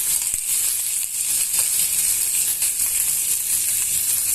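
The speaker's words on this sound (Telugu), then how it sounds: "అన్నీ వేసి బాగుగా దూరగా వేయించుకోవాలండి మాడిపోకుండా దూరగా వేయించుకోవాలి" Lentils with tamarind and cumin dry-roasting on a low flame in a pan for a roadside-style pappula chutney, a constant loud hissing sizzle with faint scattered crackles throughout.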